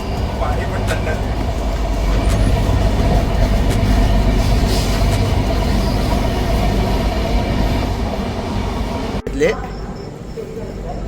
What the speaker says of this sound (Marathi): तिथं आता रतलामला थांबले ट्रेन.